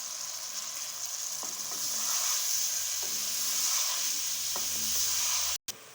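Chopped tomatoes sizzling in a frying pan during cooking of palak aloo, a steady bright hiss and crackle of frying with faint stirring clicks, continuous and close, no talk.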